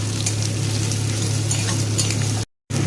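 Chopped onion and cumin seeds frying in hot oil for a green-pea curry: a steady, close, dense sizzle over a low hum that stops abruptly near the end, without any talking.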